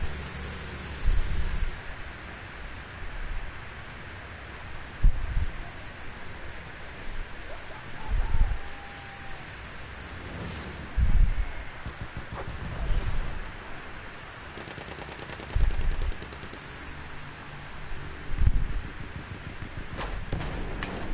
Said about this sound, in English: note to self, the dust storm is not a good idea to fly in